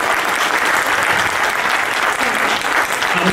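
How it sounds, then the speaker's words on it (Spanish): Audience applause at a book presentation, steady dense clapping that stays loud and even throughout with no voices on top. "Un aplauso por favor."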